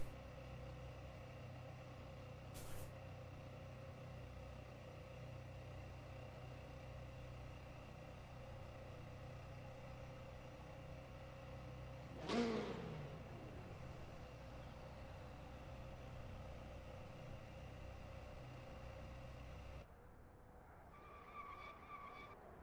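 Ferrari race cars from Assetto Corsa circle Imola on a formation lap, a faint, steady engine drone with a brief swelling pass near the middle and a sudden change in tone near the end.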